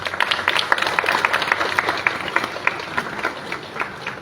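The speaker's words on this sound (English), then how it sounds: "I want you to give a big round of applause to your parents" An audience at a business school graduation ceremony claps steadily, many hands producing a dense, lively patter of applause that holds at an even level throughout.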